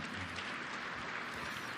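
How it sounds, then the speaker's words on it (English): Audience at a Berkshire Hathaway shareholder meeting applauding, a steady, dense wash of clapping that holds evenly throughout at moderate, somewhat distant level. "I'll even applaud that one."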